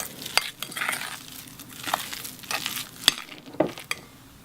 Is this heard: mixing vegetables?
yes